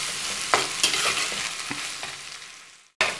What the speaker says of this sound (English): let's saute till the onions become nice and brown in color